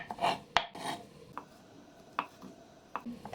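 A knife slices through hard-boiled eggs on a board for a crab stick salad, quiet, with a few sharp taps of the blade hitting the board at irregular intervals and soft rasping strokes between.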